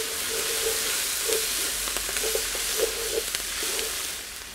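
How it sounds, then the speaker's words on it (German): Tomato paste and vegetables roast in a Dutch oven for venison goulash, producing a loud, dense, steady sizzle with occasional stirring scrapes, close up and without speech. "Das rühren wir einfach nur unter und rösten das dann nochmal mit dem Gemüse ein bisschen an."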